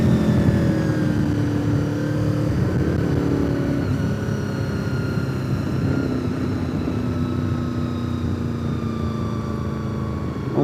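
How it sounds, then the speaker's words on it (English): A Toyota 4Runner race truck drives along the road near Deals Gap, its engine a loud sustained drone whose pitch sags slowly as it pulls away. "It's a race 4Runner."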